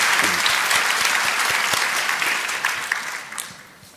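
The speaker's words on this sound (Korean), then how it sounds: "우리 귀한 찬양대 박수 한 번 더 격려하십시다" A church congregation applauds its choir, a dense wash of many hands clapping that fills the space and gradually thins and fades toward the end.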